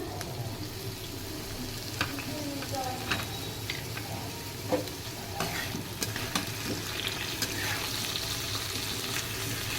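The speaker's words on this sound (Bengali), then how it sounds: "এবারে আমি পেঁয়াজটা দিয়ে দিলাম।" Onions frying in oil for khichuri and being stirred, a continuous crackling sizzle with repeated scraping and tapping of a utensil in the pan, close and steady.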